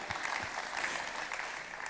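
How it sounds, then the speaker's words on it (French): Audience applause at a sustainability forum, a steady wash of clapping heard at moderate distance throughout, with no voices over it. "On peut applaudir."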